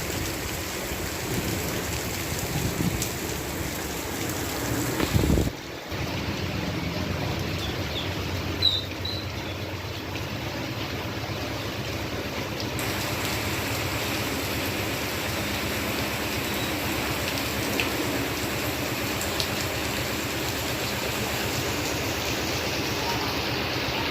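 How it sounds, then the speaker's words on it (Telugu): Heavy rain with thunder, lightning and strong gusty winds falls on Pacharla village in Rajoli mandal, Alampur, a continuous dense hiss that stays steady for the whole stretch. "భారీ ఈదురు గాలులతో కూడిన భారీ వర్షం కురుస్తోంది"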